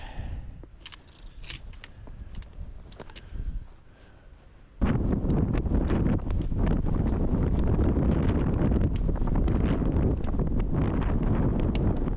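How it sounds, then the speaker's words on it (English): Strong, steady wind roars across the microphone on an exposed mountain ridge, starting gusty and then becoming a loud, continuous buffeting rush that fills the rest of the clip. "I can hear the wind howling just beside me here."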